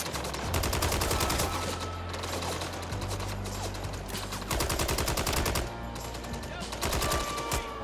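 Rapid automatic gunfire from the video game Red Dead Redemption 2 rattles in long sustained bursts with short pauses between them. The shots are dense and loud, with faint talk underneath.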